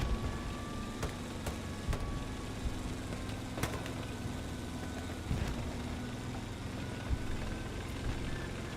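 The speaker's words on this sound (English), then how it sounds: "Panzer IV is going to cruise around the front line." Panzer IV tank engine in Hell Let Loose, a steady low rumbling drone on a battlefield, with scattered distant thuds and sharp cracks of combat around it.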